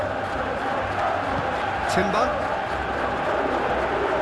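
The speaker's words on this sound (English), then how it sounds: "you can hear how the crowd are reacting to this too" A football stadium crowd at a Feyenoord match reacts to a near goal with a steady, loud roar and murmur, overlaid by a match commentator's voice and a brief shout.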